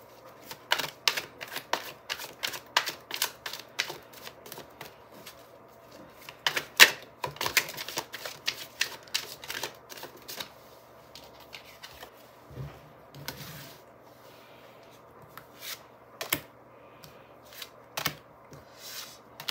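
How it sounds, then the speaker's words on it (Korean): Tarot cards shuffled and drawn for a couples' love reading, a quiet run of crisp clicks, riffles and soft card slaps spaced irregularly, close and alone with no talk. "한 번 더 디테일하게 추가 카드로 뽑아볼게요"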